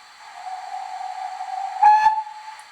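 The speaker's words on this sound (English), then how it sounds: "let's hear some of the whistles" A steam locomotive whistle in a train simulator sounds one long steady toot, swelling briefly louder near the end before tailing off, clear and alone.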